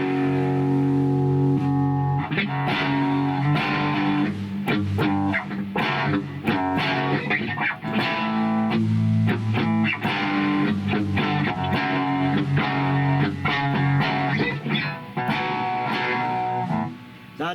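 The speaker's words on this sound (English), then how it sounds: "Let's give her a little bit of distortion." A heavily distorted electric guitar through a cheap Dumbler pedal, playing chords and riffs on the bridge pickup, thick and sustained, loud and close with no voices.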